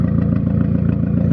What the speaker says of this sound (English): And his car sounds so funny.